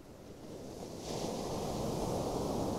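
Sea waves wash ashore on a sunny afternoon by a vast open sea, a steady broad roar of surf that swells louder about a second in, with wind noise over the microphone and no voices.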